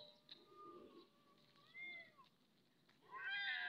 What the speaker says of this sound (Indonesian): Wah, kucing berantem ini teman-teman.